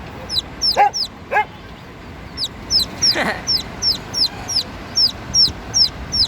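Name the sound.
white leghorn chicks and quail chicks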